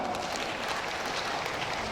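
Steady applause from teachers and principals at a kindergarten storytelling workshop, a dense even patter of clapping filling the whole two seconds at moderate level with no voices over it.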